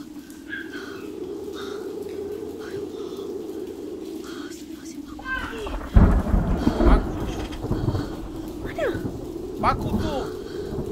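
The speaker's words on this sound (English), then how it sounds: "I'd have walked home in that rain." Thunderstorm with steady heavy rain from a movie, a continuous hiss broken by loud rumbling thunder claps in the second half, with people talking over it.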